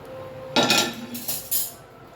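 A metal tawa griddle set down on a cooking pot of simmering amti in a home kitchen: a sharp metallic clank followed by a couple of lighter clinks and scrapes, close and brief.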